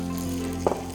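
Sage leaves with butter and pine nuts sizzle in a hot pan, a steady close frying crackle with a brief louder spit near the end.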